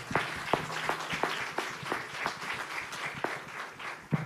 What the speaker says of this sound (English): a huge round of applause to each of you, our South African sisters, for hosting us